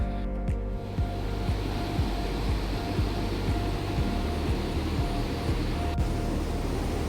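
River water pours over a V-shaped check dam, a steady close rushing roar with a dense low rumble that continues unbroken throughout.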